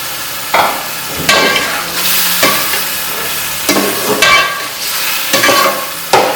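Boiled chickpeas are being fried and stirred in a pot for pulao, with a steady sizzle broken by about seven loud scraping stirs at an uneven pace, close and clear with no talking.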